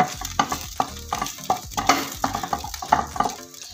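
Bread patty filling with oregano leaves cooking in a pan, a soft steady sizzle broken by repeated scraping stirs of a spoon against the pan, close and moderately loud.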